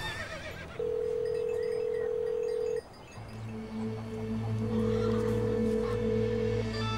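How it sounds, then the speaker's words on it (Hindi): A phone call ringing out while the caller waits for an answer, a steady electronic ring tone in long sustained pulses separated by a short gap, over low background rumble. "मैं मेहमद को कॉल करके देखता हूँ।"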